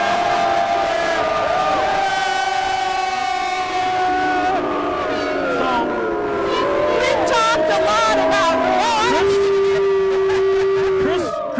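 Dense crowd of fans at the Super Bowl LIV victory parade, a steady roar of many voices with horn-like tones and whistles rising and bending over it throughout, nearby people talking amid the din.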